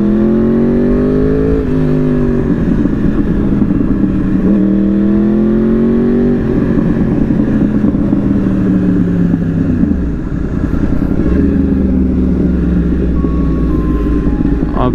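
A loud Yamaha R1 superbike engine revs up and down repeatedly, its pitch sweeping and wavering over a constant close roar, with a deeper drop partway through before it picks back up.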